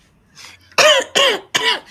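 Three loud, harsh coughs from a woman in quick succession, close up, after a soft throat sound.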